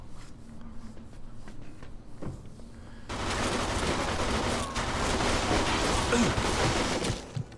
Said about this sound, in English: The old Tommy gun.